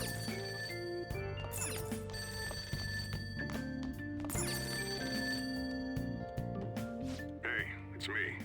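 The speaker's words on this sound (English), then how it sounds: "That ringing sound isn't coming from my cell phone. I hear it coming from downstairs." A telephone rings downstairs in the video game Persona 5 Royal, its repeated bell-like trill sounding over the game's steady background music, with a person talking over it.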